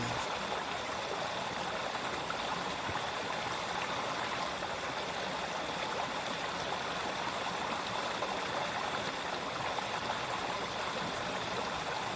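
Steady, dense rush of a flooded, overflowing river fills the whole stretch, a continuous broadband roar with no pauses and no voices.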